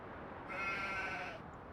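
A single sheep in a small-farm enclosure bleats once, a short wavering cry, faint and somewhat distant over low background noise.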